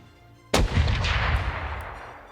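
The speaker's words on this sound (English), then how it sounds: "fire second cannon" A single cannon shot in a Unity VR game demo: a sudden loud boom after half a second of quiet, followed by a long rumbling, crackling decay that fills the rest of the clip.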